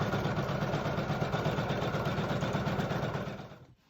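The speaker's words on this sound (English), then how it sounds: "this is the process where I embroider the quilted pattern on the" Sewing machine embroidering a quilted pattern on a small fabric boot, a close, steady rapid stitching whir that runs evenly and then winds down and stops at the end.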